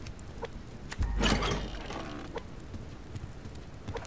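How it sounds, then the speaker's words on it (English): Chicken clucking in the survival game Subsistence, a short burst of clucks around the middle of the clip over a quiet, steady game background. "we do need to get a chicken"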